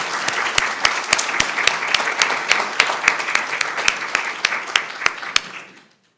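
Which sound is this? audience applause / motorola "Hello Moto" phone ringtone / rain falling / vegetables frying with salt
audience applause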